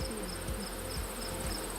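Honey bees buzz steadily around a hive, a continuous insect drone with faint higher whines layered over it, with no talking.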